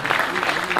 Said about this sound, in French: On peut encore applaudir Abdelmalik s'il vous plaît.